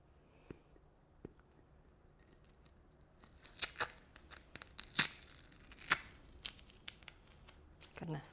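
Industrial tape being torn and peeled off fall decor pieces, a series of sharp crackling rips of rising loudness toward the end, close by with soft background handling.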